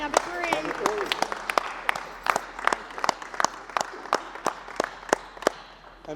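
Sparse, distinct hand claps ring out one by one, loud and close, with a voice speaking at the start, at an airline's inaugural flight celebration.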